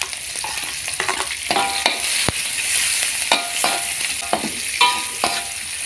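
Shallots, garlic and chili spice paste sauté in hot oil, a steady bright sizzle under repeated scraping stirs of a spatula at close range, with no talking.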